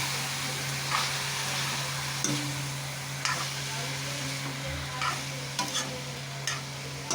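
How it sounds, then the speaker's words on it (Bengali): A spoon stirs pressure-cooked jackfruit in a sizzling pan, with repeated scraping strokes over a steady low frying hiss and a constant background hum. "এবার নাড়াচাড়া করে নেবো"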